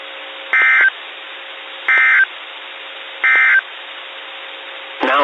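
NOAA weather radio SAME alert test tones play as three loud, evenly spaced bursts of harsh digital data tones over a faint steady carrier, ending with a brief voice.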